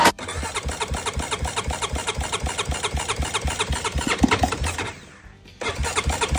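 A Honda Rancher 420 ATV engine, left sitting for ten years, cranks in a steady rapid rhythm, loud and close, then falters into near quiet before kicking back in.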